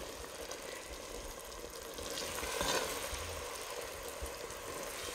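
Black-eyed pea soup simmering in a pot gives a steady sizzling, bubbling hiss that swells slightly midway and carries on alone without talk.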